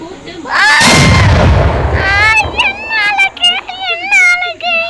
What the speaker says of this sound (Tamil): சரி இன்னொரு வெடி வெடிக்கலாம்.